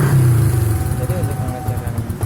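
Yamaha Vixion motorcycle engine idling steadily at close range, a continuous low rumble with slight fluctuations, a voice talking over it throughout.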